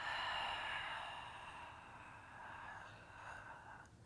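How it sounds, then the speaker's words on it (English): A long exhale pushed out through the mouth during a yoga session, a soft breathy rush that starts fullest, then fades and lingers faintly for several seconds. "take a deep breath in and exhale out through the mouth"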